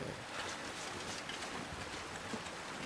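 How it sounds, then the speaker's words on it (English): Small waterfall in The Long Dark: a steady, broadband rush of falling water, constant and fairly soft, with no voices over it. "A little tiny waterfall."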